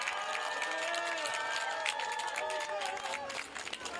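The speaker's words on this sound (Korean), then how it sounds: "여러분 고생 많고 일 잘하는 이재명 정부를 위해서 큰 환호의 박수 한번 보내주시기 바랍니다" A large crowd at an outdoor political rally for a Seoul mayoral candidate cheers and applauds loudly and steadily, with rising shouts and voices mixed into a dense, continuous roar.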